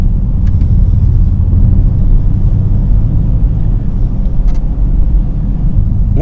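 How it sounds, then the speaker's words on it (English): A Porsche Panamera 4S with a V6 engine and an aftermarket exhaust gives off a loud, constant low rumble that holds steady from start to finish, close by, with no talking. "This car has been fitted with an aftermarket exhaust."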